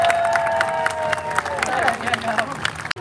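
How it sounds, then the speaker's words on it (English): Crowd applause and cheering at an outdoor wolf show, clapping mixed with scattered shouts and babble at moderate distance, with a brief knock near the end. "maybe if you guys would give him a really big round of applause"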